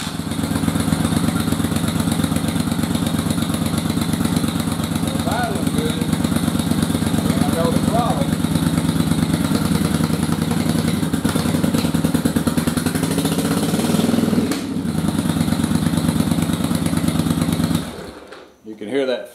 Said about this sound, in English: So when I fire it up, you'll hear it idle good. But then when I throttle it up, you'll hear this flat where it just won't come up.